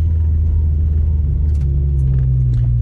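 A slammed Honda Civic drives along, its engine giving a steady, loud low rumble with a slight rise in pitch partway through and no talking.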